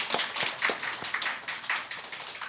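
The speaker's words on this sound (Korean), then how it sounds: "우리 뜨거운 박수로 환영합니다." A church congregation clapping in welcome for a newcomer, a short burst of brisk hand claps fairly close and moderately loud, with no talk over it.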